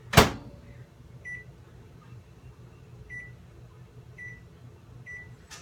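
A kitchen microwave oven defrosts chicken with a low, steady hum and faint periodic ticks, beginning with a sharp click or thump of the door or controls, no speech.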